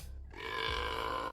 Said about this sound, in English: Challenge number 1, a burping contest.